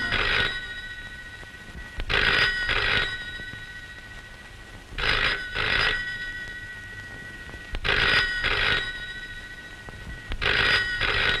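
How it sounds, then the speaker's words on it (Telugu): An old telephone bell rings in a home in a Telugu film, in repeated paired bursts of bright trilling about every three seconds, moderately close with a quiet room between rings. "ఆ ఫోన్ ఎవరో చూడమ్మా."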